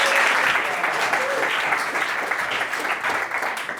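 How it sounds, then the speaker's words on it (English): Audience applause at a startup event at Google's startup hub, dense clapping that starts loud and gradually thins out over a few seconds. "So give a round of applause"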